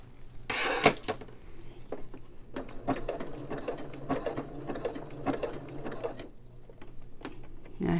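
A sewing machine stitches a rope bowl in short, uneven bursts of mechanical clatter, with pauses and small knocks between runs at close range.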